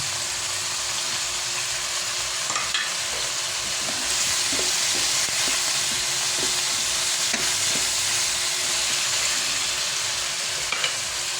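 Fried potatoes sizzling and frying in a pan while pork adobo cooks, a steady close hiss with occasional stirring clatter throughout, no voices.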